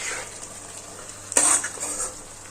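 Chopped tomato and onion sautéing in a pan for methi muthiya nu shak, a steady soft sizzle with a brief louder stir and scrape partway through.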